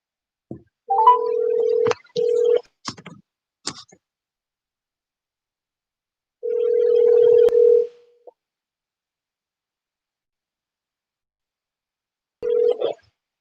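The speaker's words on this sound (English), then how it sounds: "Answer your phone." Phone ringback tones while waiting for a call to be answered: a steady tone repeats in long, evenly spaced bursts with silence between, and brief clicks and faint sounds fall near the start.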